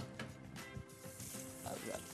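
Minced meat sizzles as it browns in a pot with onions for a stuffed dish, a quiet, steady frying hiss with faint crackles and no talking.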